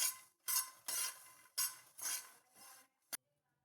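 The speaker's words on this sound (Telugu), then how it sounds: "1 స్పూన్ జీలకర్ర, కొద్దిగా కరివేపాకు ఇవంతా వేసుకొని ఒకసారి బాగా ఫ్రై చేసుకుందాం" A spoon scrapes and stirs cumin seeds and curry leaves in a pan in five or six separate strokes, each a close metallic swish, ending with a short clink before silence.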